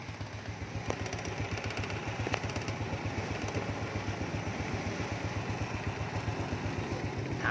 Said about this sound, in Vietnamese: Máy đang nổ anh em.